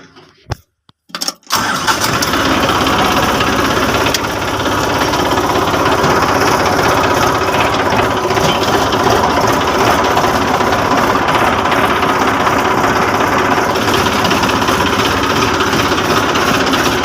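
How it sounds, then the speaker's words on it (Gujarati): A tractor engine starts after a few clicks and cranks, then runs steadily with a loud, constant rumbling drone close by for about fifteen seconds, with no talk. "પાડીએ ટ્રેક્ટર જઈએ સુનિલભાઈ ના ખેતર"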